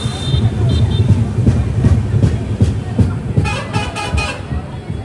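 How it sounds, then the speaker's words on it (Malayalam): Rocket Express train rolling near Kumta on the Karwar line, a steady rumbling clatter of wheels and carriages with rhythmic rail knocks, close and fairly loud, with a brief high horn-like tone at the start and a voice speaking over it. "ട്രെയിൻ ഇപ്പോൾ കുംട്ടയിലേക്ക് എത്തി"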